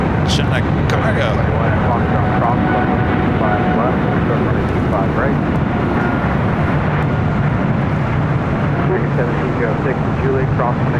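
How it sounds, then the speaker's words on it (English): A heavy EVA Air Cargo Boeing 777 freighter rolls down runway 25 right at LAX with a loud, continuous jet roar and rumble, while a voice talks over it. "Should be Eva Air Cargo, 777 freighter rolling down at 25 right."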